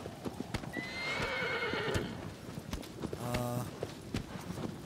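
Hooves of a horse being ridden in Shadow of the Colossus clop in a quick, steady galloping rhythm, joined by a short whinny, with faint background sound and no speech.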